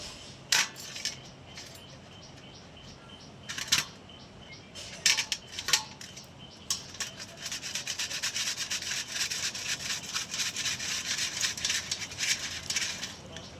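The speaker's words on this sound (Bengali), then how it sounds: "তো আমটা ছাড়ানো হয়ে গেছে, আমটা আমরা ঘষে নেব" A peeled mango is rubbed against a grater in a home kitchen, making scattered scraping strokes at first that build into steady, continuous rasping grating up close.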